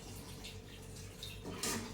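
Water pours steadily into a pan of chicken nearby, a continuous splashing hiss with a brief louder burst near the end.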